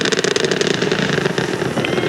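The Space Shuttle Challenger's engines roar during the STS-7 launch in 1983, a loud, continuous crackling rumble with no break, heard from a distance.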